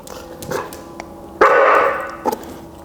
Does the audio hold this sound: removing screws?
no